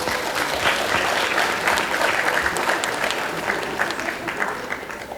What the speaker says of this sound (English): Can you all give our guests a round of applause,